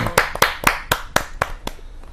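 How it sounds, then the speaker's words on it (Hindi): An audience at a televised poetry gathering greets a poet with clapping, a sparse series of about eight sharp, separate claps at a loose, uneven rhythm, close and fairly loud. "जोरदार तालियों के साथ अनिल जोशी जी का स्वागत है।"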